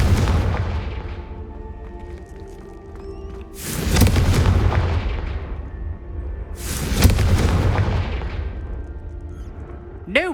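Confringo spell explosions in Hogwarts Legacy, two loud close booming blasts a few seconds apart, each decaying into a long rumbling tail over quieter game ambience.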